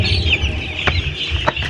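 A young chick in a day-7 brooder gives soft, steady clucking and cheeping close by, with a couple of brief sharper chirps standing out.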